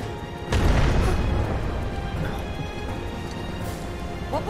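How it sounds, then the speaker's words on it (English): A small explosion in the video game Final Fantasy VII Remake, set in Sector 7, erupts as a loud, close boom that swells suddenly and then rumbles on under continuing game noise. "Tiny explosion."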